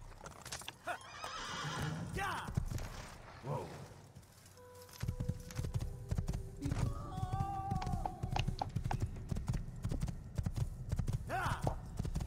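In the video game Assassin's Creed, hooves clip-clop in a steady walking rhythm, broken by a horse's loud whinny, with occasional clattering sounds and neighs around it.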